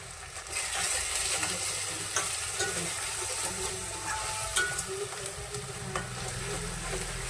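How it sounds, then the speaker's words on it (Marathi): Chili powder, turmeric and coriander sizzle steadily in hot oil in a pan for a spiced bottle gourd kofta curry, a close, continuous frying hiss with faint stirring scrapes and no talk. "मिरची पावडर वगैरे तेलामध्ये होऊ द्यायचे"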